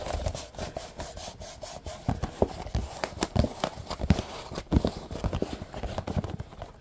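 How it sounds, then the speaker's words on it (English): Hands rubbing together and massaging arms for ASMR, with dry, scratchy friction strokes close to the microphone in an irregular rhythm, quiet and without talk. "Rubbing your hands, massaging your arms."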